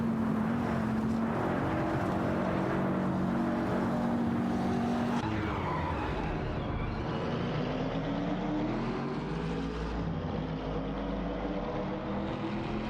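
AI-driven race cars in a video game roar along in close competition, a continuous loud engine drone that shifts pitch as the cars accelerate and pass, with no voices.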